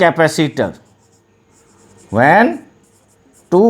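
Chalk or marker scratching faintly across a classroom board during a physics lesson on capacitors, with a voice talking in short bursts before, between and after the soft writing strokes.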